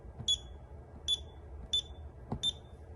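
An alarm system keypad buzzer beeps four times in a steady, evenly spaced rhythm, each beep short and bright, close by over a faint background hum with no talking.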